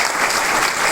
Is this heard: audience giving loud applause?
yes